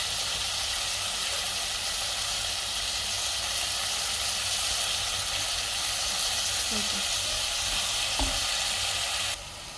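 Brinjal, potato and tomato fry in a pan over a low flame, giving a steady, close sizzle with soft hissing throughout and a few faint stirring scrapes.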